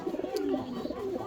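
Fancy pigeons cooing close by, a soft, low, warbling coo rising and falling over about a second, with faint background noise.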